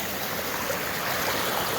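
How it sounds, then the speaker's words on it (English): A small waterfall spills over rocks in a winter creek in the Oregon Coast Range, giving a steady, dense rush of water with no pauses. "the little waterfall is right there that goes over the top"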